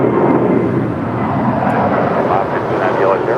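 An Atlas Air Boeing 747 on its takeoff roll from runway 25 left at LAX makes a loud, continuous, deep jet-engine roar that holds steady throughout.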